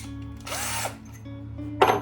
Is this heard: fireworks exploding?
no